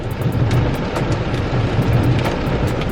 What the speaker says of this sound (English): it's raining so hard as y'all can see, bro. Thunder and lightning.